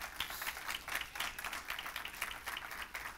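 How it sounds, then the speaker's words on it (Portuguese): A church congregation applauds, brisk clapping that rises and falls in waves, fairly quiet and somewhat distant, with no talk over it. "Dá um aplauso ao Senhor por isso."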